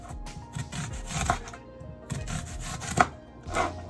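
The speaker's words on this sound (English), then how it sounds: "I have 1 onion. I'm just gonna slice this bad boy up." A knife slices through an onion on a cutting board for a beef stew, a run of close, crisp, rhythmic chops in quick bursts.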